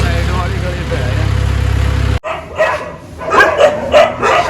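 Dogs bark in a side street in Nangloi, Delhi, a run of sharp, fairly close barks in the second half, after a steady loud engine-like rumble cuts off, with people talking nearby.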